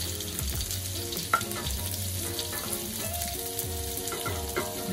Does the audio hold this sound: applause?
no